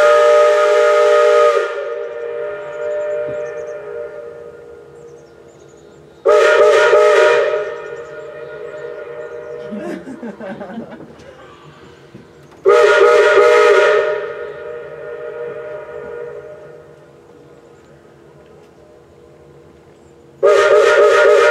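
A loud steam train whistle blows in long repeated blasts, four times with pauses between, steam hissing and rumbling faintly in the gaps, at Cripple Creek.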